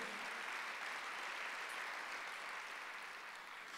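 A church congregation claps together in a dense, steady wash of applause, even in loudness and easing slightly toward the end.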